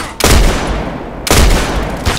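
Gunfire in the shooter game Contract Wars comes in two loud, sharp bursts about a second apart, each with a short rumbling tail.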